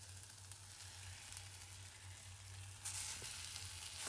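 Mashed potato stuffing with spices is stirred in a hot pan, giving a soft continuous sizzle with gentle scraping and a brighter burst of frying near the end, heard close with no talk.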